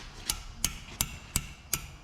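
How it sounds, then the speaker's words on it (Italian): Hammer striking an oil drum cap to loosen it, six sharp metallic blows at a steady, roughly even pace, close by and distinct, with no talk. "Devi andare col martello"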